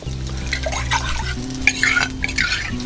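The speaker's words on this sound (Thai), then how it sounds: "ผัดสามเกลือของเราให้สุกหอมเลยนะครับ" Garlic, coriander root and pepper paste stir-fry in pork lard in a Thai home kitchen: close, loud scraping and clattering of a spatula against the pan over a low frying sizzle and steady background hum.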